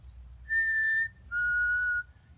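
A person whistles two clear, pure notes in imitation of a black-capped chickadee's song, the first higher and the second lower, close and alone over a low background rumble.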